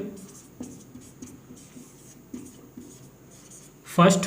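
Writing on a board during a maths lesson on sets, a soft, repeated scratching of strokes under a teacher's steady talk, ending in a louder knock or rub.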